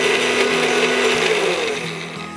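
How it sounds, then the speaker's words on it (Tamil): A kitchen mixer grinds chocolate biscuits into powder with a loud, steady whirring roar that eases slightly toward the end. "பாருங்கள் நல்லா பவுடர் அரைஞ்சிருச்சு"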